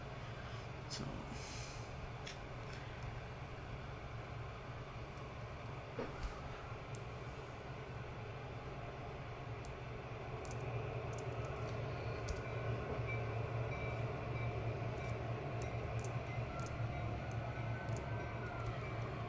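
A freight train hauling a single empty boxcar rolls along in the Trainz railroad simulation game, a quiet low steady rumble with faint track noise and occasional light clicks.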